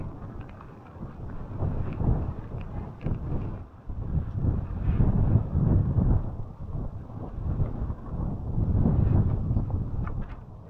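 Strong winter storm wind buffets a rocky campsite, gusting roughly and booming against the microphone in uneven surges that rise and fall over several seconds, with no talking.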